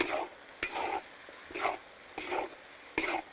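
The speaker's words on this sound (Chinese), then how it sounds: "把肥肠倒进来一下炒一下" Pork intestines stir-fried in a wok with chili flakes and hotpot base, giving repeated short bursts of scraping and sizzling at a steady rhythm, close by, with quiet gaps between strokes.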